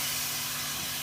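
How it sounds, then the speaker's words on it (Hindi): Minced meat (keema) fries in oil with a steady, soft hiss, even and continuous for about a second, with no voice. "और अब हम कीमे को थोड़ा सा ऑयल के अंदर करेंगे फ्राई, जब तक इसका कलर चेंज हो जाए।"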